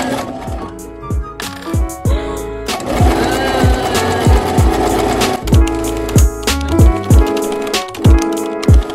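Sewing machine stitching fabric, heard up close in short repeated runs of rapid mechanical clatter separated by brief pauses, with one longer continuous stretch in the middle.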